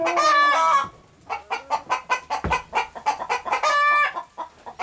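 Hens in a henhouse open with a loud, drawn-out call, then break into a rapid run of close, overlapping clucks that ends in another long squawk, with nobody talking.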